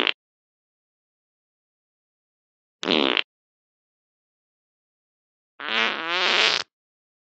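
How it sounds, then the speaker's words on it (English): Three separate fart noises with silence between them: a short burst at the start, another short one near three seconds, and a longer, louder, rippling one in the second half. Nobody talks. "Stop farting on me"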